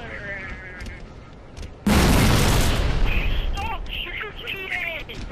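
Video game gunfire and explosions, a sudden loud blast that rolls into dense, sustained booming and crackling, with players talking over it.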